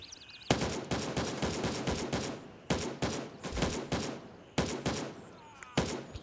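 Rifle fire in the Gray Zone Warfare video game: several bursts of loud, rapid shots in clustered volleys separated by brief pauses, sharp and close throughout.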